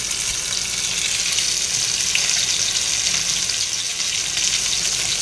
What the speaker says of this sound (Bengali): মাছগুলো ভেজে নেওয়ার জন্য আমি চুলাতে একটা কড়াই দিয়ে পর্যাপ্ত তেল দিয়ে